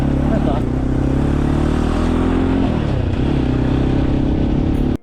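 A motorcycle labours along a rough off-road stretch of mountain road under construction, its engine droning loud and steady with some clatter and the pitch shifting as it works, before cutting off abruptly at the end.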